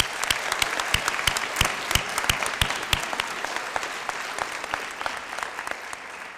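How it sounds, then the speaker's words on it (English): Applause at a high school National Honor Society induction ceremony, steady clapping from an auditorium audience with a few close, crisp individual claps standing out, gradually softening by the end. "Please join me in a round of well-deserved applause for these two fabulous advisors."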